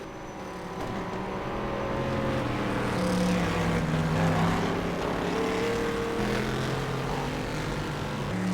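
Race car engine droning steadily in a sim racing endurance race at Sepang, with the pitch rising and falling as it slows into the pit lane, loud and continuous with no talk.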